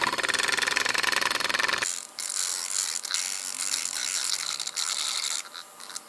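Milk frothed for a pumpkin spice coffee, with a handheld frother giving a loud rapid buzzing whir at first, then a lighter, airier whirring with shifting tone as the frother is moved around.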